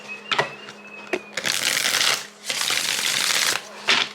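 Tarot cards shuffled by hand in several close, brisk riffling bursts with short pauses between them, clear and fairly loud, no talking over them.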